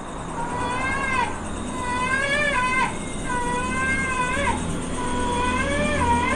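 Cat yowling in long, wavering, rising and falling cries, repeated four times over steady background noise, moderately close.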